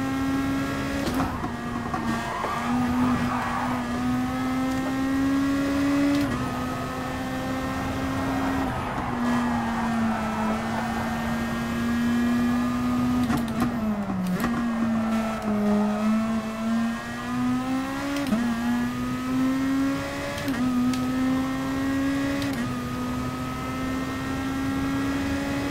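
A race car in GT Sport on a practice qualifying lap, its engine droning steadily and loud with pitch rising and dropping through gear shifts and corners, no talk.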